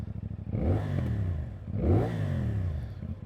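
A CFMoto 450NK motorcycle engine revs twice, each throttle blip rising to a rumbling peak and falling back to a lumpy idle, close and fairly loud with no voices.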